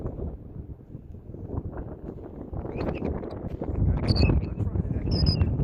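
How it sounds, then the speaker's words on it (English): Wind buffets a microphone outdoors near the Great White wooden roller coaster at Wildwood, New Jersey, a steady low rumbling roar that builds louder toward the end, with faint voices mixed in. "they probably can't hear me because of the wind"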